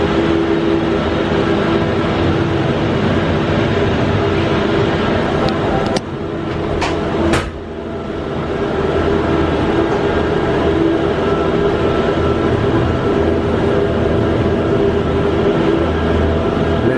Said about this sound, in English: Alright, we're on the Skyliner. So we're going to video us taking off, a little view of us riding, and then the landing.